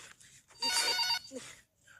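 A telephone rings in a loud, bright burst lasting about half a second, with muffled voices and background noise before and after.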